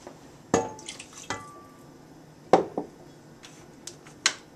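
Water added to a cooking pot while making an upside-down eggplant pilaf, heard as a few sharp splashy clinks and drips against the pot, spaced out over several seconds, close and fairly clear with no talk.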